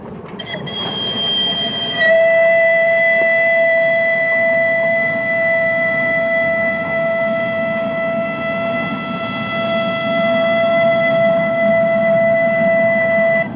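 A narrow-gauge locomotive train runs on the Talyllyn Railway over worn track, with a loud steady rumble and a sustained high whistle-like squeal carrying through, a voice briefly present.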